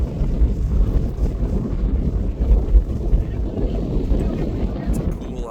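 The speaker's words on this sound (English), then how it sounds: "Man, it's windy." Strong wind buffets the microphone in an open cattle pasture, a continuous low roaring rush that surges and dips in gusts, loud and close throughout.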